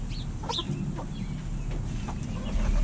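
Chickens cluck and chirp in short scattered calls inside a backyard coop over a steady low rumbling background, moderately close with no talking.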